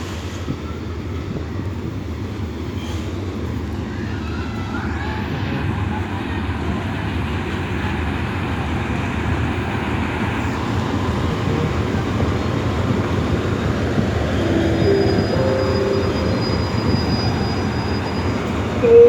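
Hitachi 4503 ordinary train number 201 running from Bangkok Hua Lamphong to Phitsanulok, heard as a continuous loud rumble of engine and wheels on rails, steady and close from inside or beside the train.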